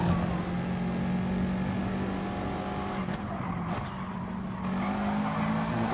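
Race cars howl around Fuji International Speedway in Gran Turismo Sport, with a loud, steady engine drone, shifting pitch as cars jostle, and a brief tire squeal in the middle.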